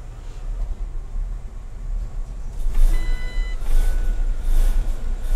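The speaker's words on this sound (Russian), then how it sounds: "двигатель потраивает, то есть обороты держит пока нестабильно" A ZhongTong 6105 bus with a Weichai engine idles unevenly at close range, its low rumble pulsing irregularly while a few tonal beeps sound midway and the engine noise rises toward the end.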